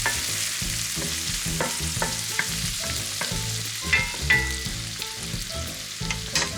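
Garlic sautés in a pan over low to medium heat, a soft continuous sizzle with light stirring taps and scrapes, close up and without speech.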